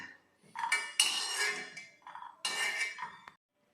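Fried cashews clatter and scrape as a spoon shifts them from a pan into a bowl, two close bursts of metallic clinks and rattles separated by a brief pause.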